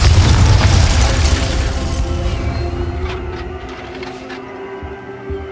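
Confringo fire spell from Hogwarts Legacy bursts open in a loud, heavy blast that rolls off and gradually fades, leaving a quieter tail of faint crackles and tonal game sounds; no one speaks.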